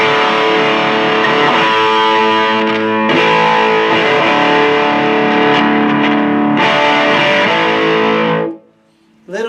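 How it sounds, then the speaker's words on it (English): A 1989 Aria Pro II electric guitar rings out through heavy distortion, loud sustained chords held for several seconds, then cut off and choked to near silence before the strings sound again. "So it is all strung up, and man, what a fun guitar."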